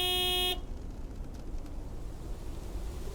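A big white truck in the video game Lake gives one loud, sustained horn blast lasting about half a second, cut off abruptly into quiet ambient noise.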